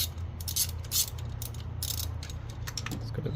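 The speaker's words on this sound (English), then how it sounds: "And what I like to do is loosen all 4." Hand ratchet loosening the four spark plugs on a 2017 Nissan Sentra S, a steady run of close mechanical clicks with a low hum beneath and a few brighter clacks, no voices.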